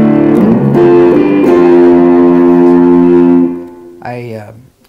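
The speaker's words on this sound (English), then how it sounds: "And so I have a distorted sound like this." An electric guitar through a distorted amp model on a Fender G-DEC rings out with thick sustained chords, loud and close, then fades before a short gritty bent note at the end.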